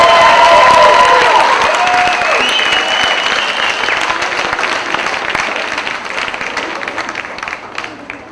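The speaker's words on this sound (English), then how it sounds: "Let's all give a round of applause for the NPL and NPS candidates." Audience applause for graduate candidates at a 2004 university commencement ceremony, loud and sustained with some cheering, starting strong and gradually thinning out as it fades over several seconds.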